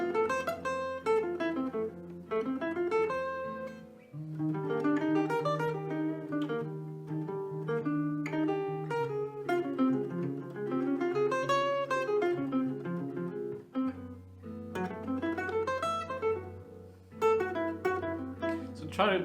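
A jazz guitar plays arpeggios over sustained bass notes, clear picked notes rising and falling in phrases, with a short pause near the start and again before the final phrase, no talking.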